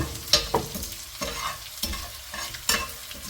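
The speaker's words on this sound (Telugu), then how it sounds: "ఇలా క్రష్ చేసుకున్న దాన్ని గీ వేడైన తర్వాత అందులో వేయాలి" Crushed edible gum frying in hot ghee, with a soft sizzle under repeated scraping stir strokes of a spoon against the pan, several distinct strokes and no voices.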